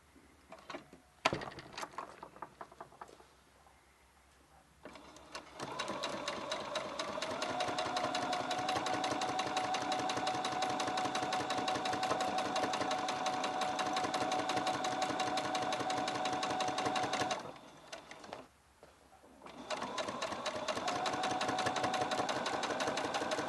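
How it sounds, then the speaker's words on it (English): A sewing machine stitches in the ditch with a blind hem foot, running in a steady, fast, loud mechanical rhythm for long stretches, with a pause for repositioning before it starts again. "I'm now also using my blind hem foot because I want to stitch in the ditch, which basically means stitching in the previous seam."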